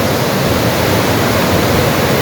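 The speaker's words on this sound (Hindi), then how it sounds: "बहुत खूबसूरत वाटरफॉल है, मारगला वाटरफॉल इसे कहते हैं।" Margla waterfall near Kel roars as a dense, steady rush of falling water, loud and close, with no break.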